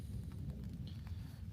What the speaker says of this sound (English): you might be able to hear the rumbling of thunderstorms in the background